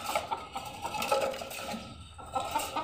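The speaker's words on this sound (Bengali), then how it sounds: "এই যে দেখেন, আমার মুরগিগুলো আটকে রেখেছি, ওই যে একটা ডিম পেড়েছে।" Hens shut in their pen cluck in short soft bursts, close by, with a low background hum running underneath.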